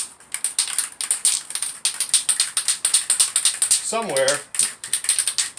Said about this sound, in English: rattle can ourselves some CRC industrial spray adhesive